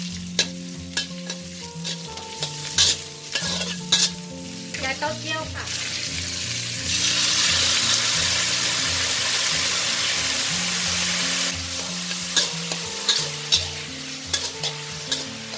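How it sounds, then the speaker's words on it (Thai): Ginger frying in pork lard over low heat in a wok sizzles steadily, broken by repeated sharp clanks and scrapes of a spatula stirring, with a louder hissing burst midway. "เราจะเอาส่วนของขิงนะลงไปเจียวเลยค่ะ"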